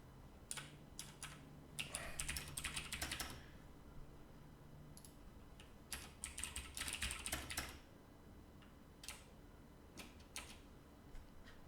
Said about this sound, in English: hate typing in Visual Studio